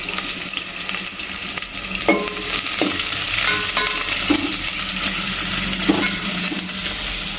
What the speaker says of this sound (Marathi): कांदे जे आहे व्यवस्थित भाजून घ्यायचे आहेत